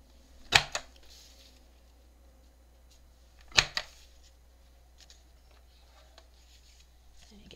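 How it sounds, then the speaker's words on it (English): An envelope punch board punches a paper file folder strip in two sharp snaps about three seconds apart, each a crisp punch followed by a smaller click, close up in a quiet room. "I want to use my envelope punch board and make kind of a file folder tab"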